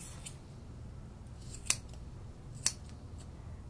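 Straight grooming scissors cut across a poodle's coat in a kennel, giving two crisp, close snips about a second apart over a low, steady room hum.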